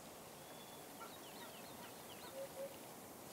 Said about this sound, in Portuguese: Gavião carijó.